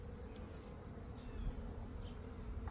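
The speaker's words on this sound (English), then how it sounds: "See some new bees there." Honeybees hum steadily in an open hive during a late-winter colony inspection, a dense, continuous low buzz that is fairly close and fills the whole stretch without voices.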